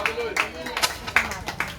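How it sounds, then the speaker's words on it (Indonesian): Crowd clapping at an outdoor street revival sermon in a marketplace, scattered rhythmic claps arriving in loose bursts about every third of a second, with a voice faintly audible beneath. "Berikan tepuk tangan untuk Tuhan."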